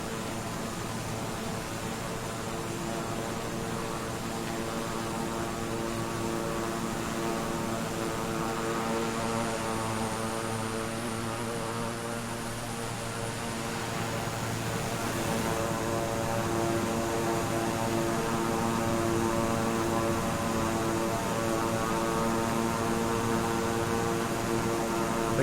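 A Beechcraft King Air 350i twin turboprop in Microsoft Flight Simulator 2020 comes in to land, its propellers giving a steady droning hum with layered tones that holds loud and even throughout, with no voices.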